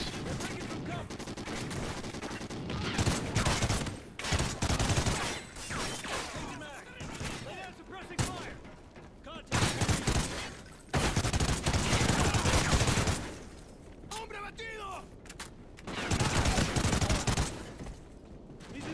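Rapid automatic gunfire and bursts of shots in the shooter game Call of Duty: Ghosts, loud and close, coming in repeated volleys across the whole stretch with brief lulls and a voice talking over parts of it.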